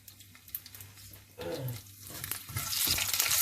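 Ginger and mustard seeds fry in a pan for upma, a soft crackle that builds into a louder, brighter sizzle toward the end, with faint low background noise.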